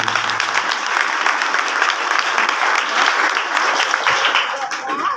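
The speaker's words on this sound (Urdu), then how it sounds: "زوردار تالیاں اس کا نام سے" A church congregation at a gospel service claps loudly and continuously, a full, even wash of applause with no pause.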